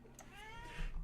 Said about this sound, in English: Sorry, if you can hear my cat meow